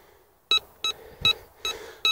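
A Nel Tornado metal detector gives five sharp, evenly spaced electronic beeps about every 0.4 seconds while testing a target at 50 cm depth, close and clear over near silence.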